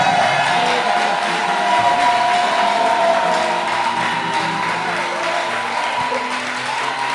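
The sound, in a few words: church congregation cheering and applauding the Holy Spirit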